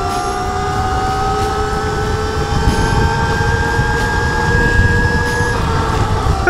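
A cheap 72V electric motorcycle accelerates hard, giving a loud, steady electric whine that climbs slowly in pitch over rushing road and wind noise, with no voices.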